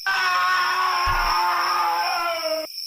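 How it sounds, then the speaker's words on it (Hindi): A loud, sustained scream sound effect in a Hindi horror story about a mysterious forest, shrill and wavering for nearly three seconds before cutting off sharply. "ऐसा लगा जैसे कोई जोर से चिल्ला रहा हो।"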